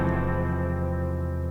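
A short chopped guitar sample: one loud, dense sustained chord with a bright attack, holding steady for about a second and a half before cutting off abruptly.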